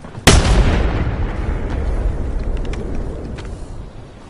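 A grenade explodes in a video game firefight: one sudden loud boom, followed by a long rumbling decay that fades over several seconds.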